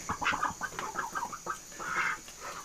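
Old ducks in a rural mountain village, giving a run of rapid, nasal quacking calls in short bursts, moderately close and fairly quiet against light background noise.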